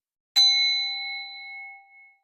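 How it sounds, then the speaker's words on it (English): A small bell is struck once, giving a bright ding that rings clearly and slowly fades over about two seconds in otherwise silent surroundings. "I'm going to ring my bell."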